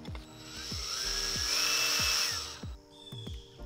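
A small drill whines steadily at high pitch while boring a tiny hole in a wooden wand, rising and holding for a few seconds before winding down, with faint rhythmic knocks underneath.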